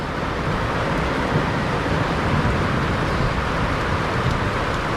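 Heavy rain pours onto a tin roof over a trekking lodge room in Nepal, a constant dense hiss and patter that stays even and close throughout with no pauses.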